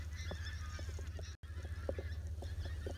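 A flock of white-fronted geese calling as they fly in to land, with repeated yapping honks over a steady low rumble, moderately distant and with no talking.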